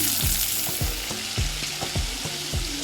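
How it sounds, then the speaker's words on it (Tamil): Shallots and curry leaves sauté in hot oil, giving a steady close sizzle broken by repeated low clunks and taps of a spoon stirring the pan. "நல்லா வதக்கி விட்டுருங்க."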